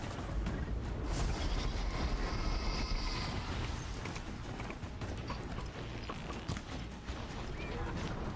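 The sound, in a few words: horse hooves clip-clopping in Horizon Zero Dawn video game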